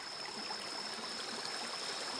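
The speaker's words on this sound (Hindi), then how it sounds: "ऊपर गांव है और गांव के नीचे से ये पानी चट्टान से निकलता है।" Rainwater flowing out of rock below a hillside village makes a steady, continuous rushing stream sound, even and unbroken throughout with no voices.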